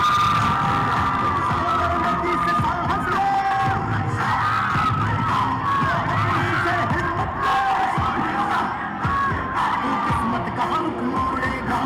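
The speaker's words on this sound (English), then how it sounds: "Can we have a huge round of applause, guys?" A crowd at a National Games women's football gold medal ceremony claps and cheers steadily, with scattered yells and whoops rising over a dense, sustained wash of noise.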